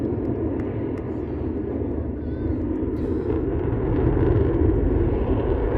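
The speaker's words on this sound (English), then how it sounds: "And the F-16 breaks off." An F-16 fighter jet flies at an airshow, heard as a steady, fairly distant low roar that swells slightly toward the end.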